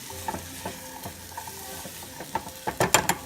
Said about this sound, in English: My onions are in there, my garlic is in there, and all my peppers are in. Stir that around.